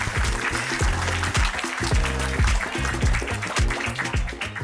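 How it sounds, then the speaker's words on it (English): Round of applause from a school audience at a period-awareness event, clapping running throughout under loud rhythmic music with a heavy bass beat. "Can we have a big round of applause for her?"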